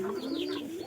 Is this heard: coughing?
no